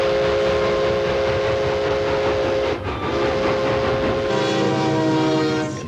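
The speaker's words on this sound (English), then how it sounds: "The haunting voice of the steam engines enchanted dreamers of every age." A steam locomotive rumbles and chugs steadily, with a sustained whistle tone running over it and a brief dip midway; loud and close, no talking.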